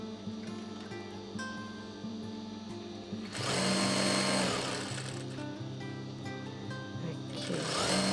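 A sewing machine runs on a fabric edge, giving a steady, close whirring hum that speeds up partway through, with a person talking over it.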